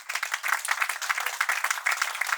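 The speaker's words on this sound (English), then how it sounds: "a big round of applause for all the founders" A live audience applauds startup founders at a regional startup competition final in Paris, steady dense clapping filling the room for a couple of seconds with no talk over it.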